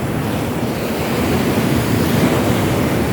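Rough, murky sea churned by a signal number 2 typhoon in Palawan, a dense continuous roar of surf and crashing waves mixed with heavy wind buffeting the microphone, loud and unbroken.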